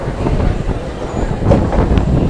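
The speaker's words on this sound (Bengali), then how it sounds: "ট্রেনটা আমাদের কচুয়া ছেড়ে বেরিয়ে চলে যাচ্ছে হাওড়ার দিকে" A Katwa to Howrah galloping local train rumbles along steadily, a close, dense low-frequency roar with faint rattling and occasional metallic squeaks.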